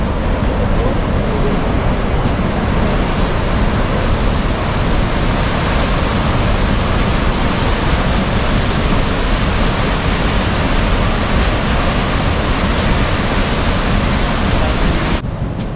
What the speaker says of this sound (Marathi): ही जी नदी लागते बाजून तुमच्या रस्त्याच्या, ही भागीरथी आहे